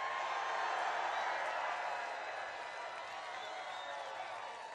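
A large crowd at a Donald Trump political rally in Mosinee, Wisconsin cheers and applauds, a broad wash of clapping and whoops that swells early and then slowly fades, with faint speech mixed in.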